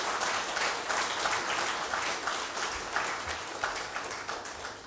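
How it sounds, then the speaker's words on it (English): Audience applause at a corporate heart-health talk event, a full room clapping steadily with a busy, even texture that fades gradually over a few seconds. "a big round of applause to Dr. Devi Shetty ji."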